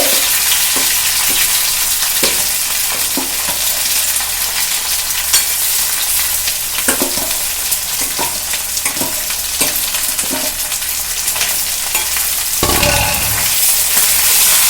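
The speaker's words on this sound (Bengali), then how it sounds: "সেই আলুটা কিন্তু এবার দিয়ে দিলাম তেলের মধ্যে" Spiced mashed potato frying in oil, for egg devil chops, with a steady loud sizzle and repeated scraping stir strokes of a spoon against the pan throughout.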